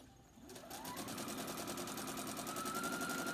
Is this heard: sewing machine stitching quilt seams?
yes